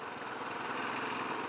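Royal Enfield Classic 500 motorcycle engine lugging along in a high gear at low revs, a steady, even drone with a slight vibrating texture and no breaks over the short stretch.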